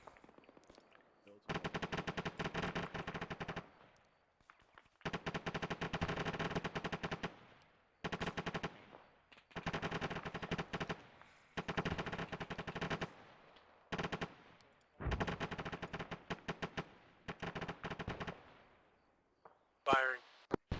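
A machine gun fires during squad training, a series of long bursts with short gaps between them, repeated steadily over twenty seconds.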